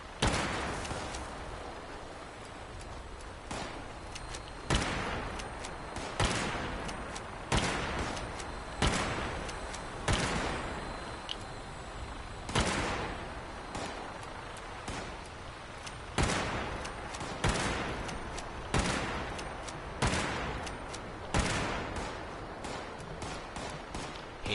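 Automated turrets in Fallout 76 fire repeated sharp gunfire bursts at fairly regular intervals of a second or two, loud and close, with a steady rumble between shots.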